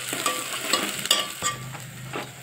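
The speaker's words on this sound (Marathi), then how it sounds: "अद्रक लसणची पेस्ट टाकून घेऊन एक वेळ परतून घेऊ मस्त" Ginger garlic paste frying with onions in a pan, a steady low sizzle with scraping stir strokes repeating every half second or so, close and moderately loud with no talking.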